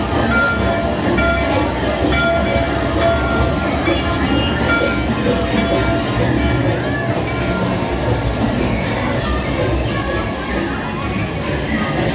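Theme park ride train setting with a steady rolling, rumbling rail noise and crowd murmur throughout, loud and continuous, with voices mixed in.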